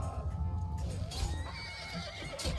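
A horse in a medieval Knights Templar video game whinnies loudly in a rising, wavering call, with hooves clip-clopping underneath.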